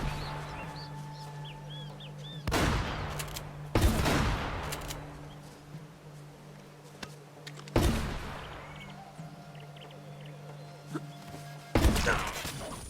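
Gunfire in the video game Uncharted: Drake's Fortune: four loud, sharp blasts spaced a few seconds apart, each with a short decay, over a low steady game hum and faint ambient chirps.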